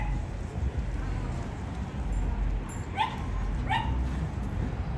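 A dog barks twice in quick succession, short sharp yelps set back from the microphone over a steady background hum.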